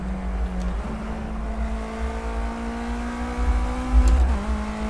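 A 100-horsepower car engine drones steadily at high revs on a bumpy race track lap, loud and close, with a brief shift in pitch near the end.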